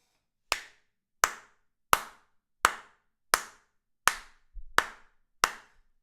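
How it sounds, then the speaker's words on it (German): Eight sharp, evenly spaced hand claps, close and loud, each ringing briefly with silence between them. "So, riesengroßer Applaus für euch."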